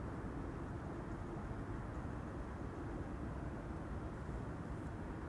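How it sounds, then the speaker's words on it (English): Steady broadband roar of airliner engines running at Amsterdam Schiphol Airport, continuous and distant with no clear change in level, heard alone without talk. "Is this the airplane with the running engines?"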